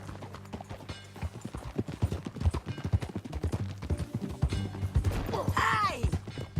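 Horse hooves clip-clop in Red Dead Redemption 2, a steady rhythmic trot of hoofbeats close by, with a horse whinnying briefly near the end over a low background hum.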